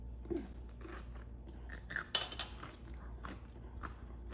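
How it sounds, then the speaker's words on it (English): Asian cucumber salad being eaten close to the mic, with a few soft, crisp crunches and chewing bites and one sharper crunch midway, fairly quiet and with no talking. "Just listen to that satisfying crunch."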